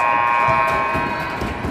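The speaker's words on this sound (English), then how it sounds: "buzzer will indicate that we're at the end of our first period" Ice hockey arena buzzer marking the end of the first period, a sustained steady electronic tone ringing through the rink over a low crowd murmur.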